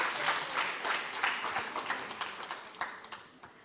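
Audience at an entrepreneurship panel talk claps in a moderately quiet round of applause, individual hand claps distinct and gradually thinning out toward the end.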